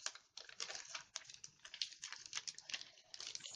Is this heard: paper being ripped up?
yes